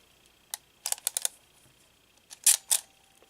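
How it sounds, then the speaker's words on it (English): The film advance of a Kodak Retina Automatic III camera is worked by hand, giving a quick series of small mechanical clicks and ratchets followed by two louder snaps, close and crisp against near silence. "film advance"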